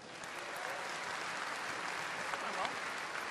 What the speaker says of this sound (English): How about one last round of applause for our panelists?